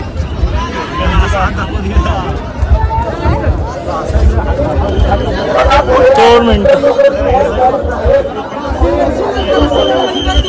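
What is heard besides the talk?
crowd at Raigad fort coronation ceremony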